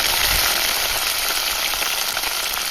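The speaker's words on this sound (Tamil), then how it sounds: "இப்போது நம்ம கத்திரிக்காவை அதில் சேர்த்துக்கலாம்" Eggplant sizzling as it fries in hot oil with onion and garlic, a loud, steady crackling hiss that continues without pause and with no talking.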